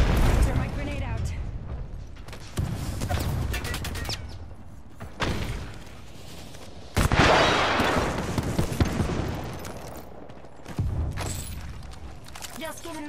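Frag and thermite grenades explode in a video game: several deep booms and thuds arrive at uneven intervals, each followed by a rumbling tail, with a voice speaking among the blasts.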